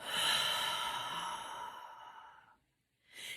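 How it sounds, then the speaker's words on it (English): A person exhales softly into cupped hands, one long breathy sigh that fades out, followed by the start of another breath after a short pause. "So I just breathe into my hands"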